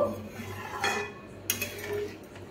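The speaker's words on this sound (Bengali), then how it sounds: "এবার আমি জলের সঙ্গে এই সবগুলোকে বেশ ভালোভাবে এইভাবে আমি মিশিয়ে নেব" Gobindobhog rice being stirred with water in a pot for Basanti pulao: a spoon scrapes and clinks against the metal, with a few sharper knocks standing out over a low steady background, and no voices.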